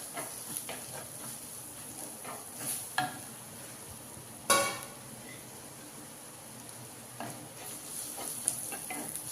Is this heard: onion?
yes